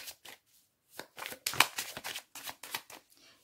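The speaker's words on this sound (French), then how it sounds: "Je vais prendre seulement 3 cartes." Tarot and oracle cards are drawn and handled close up in a quick series of soft papery slides, flicks and shuffling bursts with short pauses between them.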